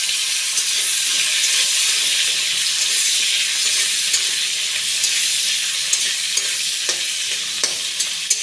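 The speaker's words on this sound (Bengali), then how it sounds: "আলু পটলগুলো ভালো করে ভাজা ভাজা করে ভেজে নেব।" Sliced potatoes and pointed gourd frying in oil left over from fritters, a loud continuous sizzle with stirring scrapes and occasional sharp pops throughout.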